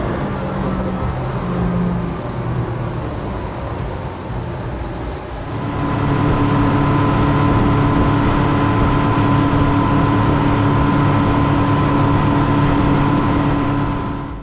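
Twin Honda L4 150 outboard motors on a Whittley SL25 roar steadily at full throttle on calm water, building from a lower drone into a loud, sustained high-revving hum heard from on board.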